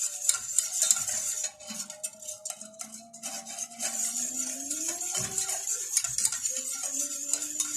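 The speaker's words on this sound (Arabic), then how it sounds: "هقلب كده لحد ما اوصل للسمك اللي انا عايزاه" A spoon stirs cocoa sauce for a chilled biscuit cake in a pot, repeated close scraping and clinking strokes against the metal in a steady rhythm, with no one talking.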